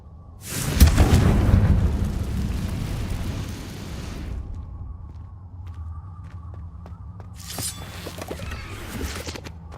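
A Confringo fire spell exploding in Hogwarts Legacy: a sudden loud blast that roars and crackles for about three seconds, followed by quieter rumbling, small ticks and a second softer burst near the end.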